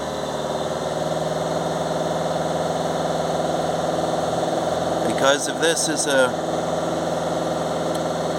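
A Fiat Ducato diesel engine idles from cold with a steady, even low drone, someone speaking briefly over it partway through.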